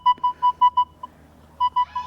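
A Nokta Legend metal detector beeps in a quick run of five or six evenly spaced tones, a pause, then several more, clear over faint background hum.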